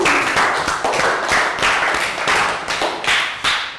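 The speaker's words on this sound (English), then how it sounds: "Round of applause for two." A classroom round of applause gives rhythmic, fairly loud group clapping with regular accented beats, close by and continuous, no talking.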